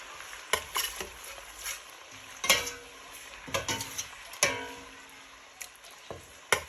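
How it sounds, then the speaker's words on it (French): A spoon stirs green marinade into fish and rice in a pot, making a series of sharp metallic clinks and scrapes over a soft sizzle, with uneven pauses between strokes; no voices. "Il faut bien mélanger le tout."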